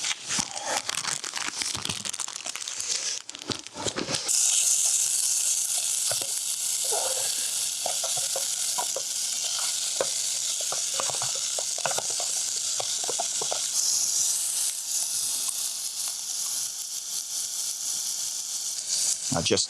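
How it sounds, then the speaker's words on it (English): Minced meat sizzles steadily in a pot over an outdoor fire in winter snow, a bright crackling frying hiss lasting throughout, preceded by crinkling packaging and occasional clinks and stirring. "I'm gonna add the minced meat."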